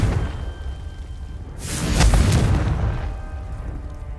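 A Confringo fire spell in the Hogwarts Legacy goblin fight bursts as a loud, booming blast with a whooshing roar that swells and fades over about a second and a half, over low rumbling game ambience.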